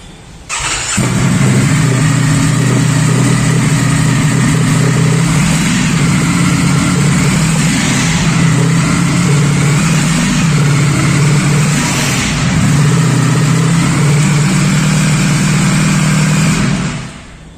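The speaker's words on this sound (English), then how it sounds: "Now let me make you hear the exhaust note of this motorcycle." A Ducati Streetfighter V4S motorcycle engine starts and idles with a deep, steady exhaust rumble, loud and close, with occasional slight revs before it cuts off.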